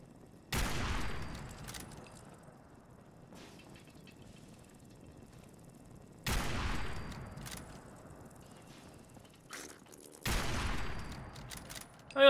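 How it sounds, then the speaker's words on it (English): Three loud, separate bursts of .50 cal rifle fire shot at bloodbugs in Fallout 4, each a sharp crack with a ringing tail, spaced several seconds apart over quiet ambience. "I like taking a 50 cal rifle to some flies, though."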